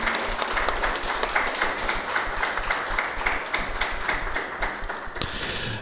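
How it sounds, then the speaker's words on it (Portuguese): A church congregation at a Sunday morning service applauding to welcome the pastor, a steady wash of many hands clapping through the room at moderate volume, with no clear talk over it. "Vamos receber nosso pastor Inahan Almeida com uma grande salva de palmas."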